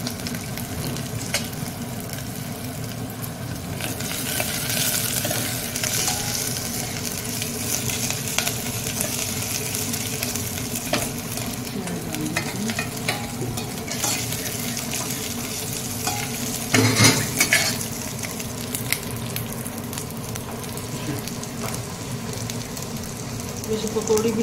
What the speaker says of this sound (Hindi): मैंने हरे पत्ते डाल दिए। थोड़ा भुन जाएगा तो प्याज डाल दूंगी।